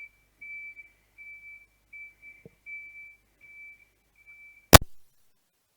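A big truck's reversing alarm beeps outside a window, a regular series of short high beeps at a steady pace, then a single sharp knock near the end.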